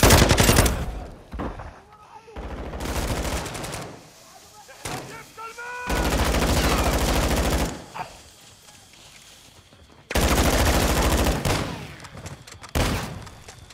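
Gunfire in Call of Duty: Modern Warfare II, loud bursts of automatic fire alternating with short quieter gaps, close and harsh, with some in-game voice chatter between bursts.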